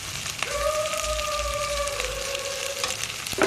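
Onions frying with a pinch of turmeric powder in a pan for a potato palya, giving a steady, close sizzle and crackle that runs the whole time, with a faint tonal hum in the background and no speech.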